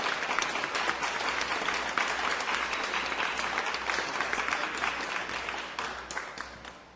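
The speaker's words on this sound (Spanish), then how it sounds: "Un aplauso nuevamente para Daniel" An audience applauds loudly and steadily for Daniel on a televised governor's program in Fómeque, a dense wash of clapping lasting throughout before tapering off at the end.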